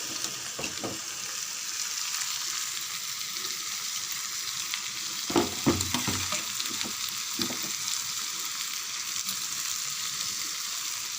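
Rice poured into a pot of rolling boiling water for veg biryani, then stirred, giving a steady bubbling hiss with a few brief clunks and scrapes of the spoon partway through.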